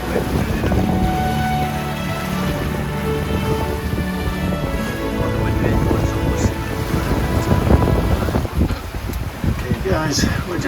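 A sailboat runs under way in steady wind on open water, with constant rushing air and water noise buffeting close by throughout.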